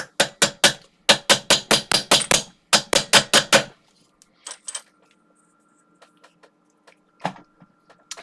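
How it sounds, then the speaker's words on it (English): Metal amplifier clamps are hammered back into place on a car audio amp during a repair: three rapid bursts of sharp, close, evenly spaced metallic strikes, followed by a few quieter taps and clicks. "it just needs to hammer these clamps back in place now"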